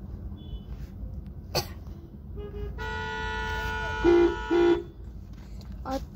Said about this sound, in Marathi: आता इथं ट्रॅफिक लागलेलं आहे.